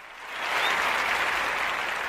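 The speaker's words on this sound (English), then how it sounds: "let the people finish clapping" Applause swells up from a quieter start and continues as an even, sustained patter of many hands clapping.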